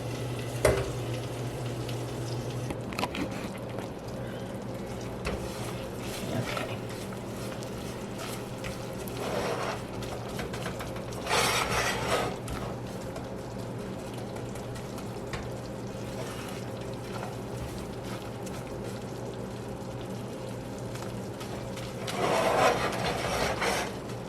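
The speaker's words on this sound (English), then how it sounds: "we have the butter being melted here, and now the brown sugar" Butter and brown sugar melt together in a pan over medium heat: a soft, steady sizzle with a low hum beneath, broken by several scraping bursts of a utensil stirring against the pan, with no one speaking.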